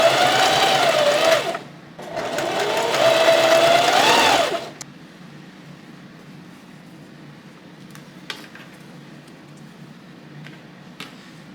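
A sewing machine stitches stretchy fabric for shorts in two close, steady bursts separated by a short pause, then falls quiet with only faint handling sounds.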